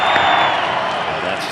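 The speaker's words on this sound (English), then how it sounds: "Here comes the crowd." Crowd at a Brewers at Cubs baseball game at Wrigley Field, April 7, 2022, swelling in a loud broad roar of cheering that gradually eases.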